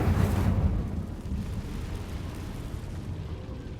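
Incendio fire spell cast in Hogwarts Legacy: a loud, close whooshing burst of flame that quickly fades into a sustained low, crackling rumble.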